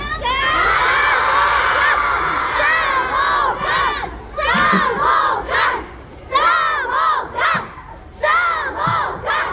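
A large crowd of fans at a meet-up shouts the brand name Hack in unison after a count, loud, excited voices rising together in repeated bursts with cheering between them.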